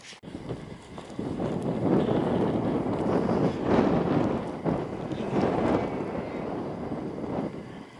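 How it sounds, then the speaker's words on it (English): Breezy day near Trawsfynydd Dam, with gusty wind buffeting a sponge-covered microphone as a continuous low rumble that swells and eases over several seconds. "It's pretty breezy today"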